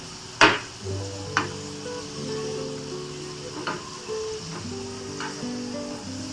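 Fried modak sweet dumplings sizzling in hot oil, a steady close crackle with a few sharp clinks of a utensil against the pan as the dumplings are turned.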